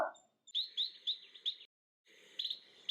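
Birds call repeatedly outside a nest, the parent pair giving clear, high chirping notes in bursts that pause for a half-second gap before resuming, with no voices present.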